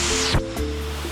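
A hidden waterfall in Costa Rica gives a steady, broad rushing roar of falling water, with a brief thump partway through and no voices.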